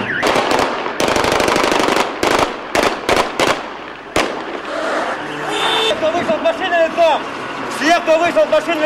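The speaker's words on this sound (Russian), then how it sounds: "Сельские улицы вздрогнули от взрывов и стрельбы." Gunfire and explosions during a police operation on rural village streets in Khakassia: loud rapid bursts of shots and sharp blasts in quick succession, followed by a vehicle and raised voices.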